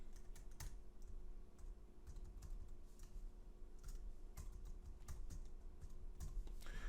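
Rapid, uneven keystrokes on a computer keyboard are heard while someone enters an email address during a WordPress setup. The close, soft clicks continue steadily over a faint background hum, with no talking.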